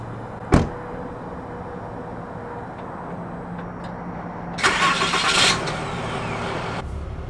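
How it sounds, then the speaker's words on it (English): A Ram pickup truck with factory air suspension starts up: a sharp click near the start, then a few seconds later a loud, broad burst of cranking and engine catch settling into a steady idle hum. "I'm going to put the camera down and I'm going to turn the truck on"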